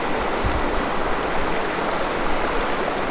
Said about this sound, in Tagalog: Lakas ng agos ng tubig oh.